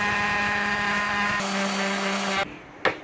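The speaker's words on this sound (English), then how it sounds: "use the 40 grit on the sander and try to rip these edges down and give it a smooth angled edge" Electric sander running 40 grit paper to shape and bevel the edges of a wooden coat rack board, a steady loud whirring drone with a shifting pitch that cuts off abruptly near the end, followed by a brief clunk.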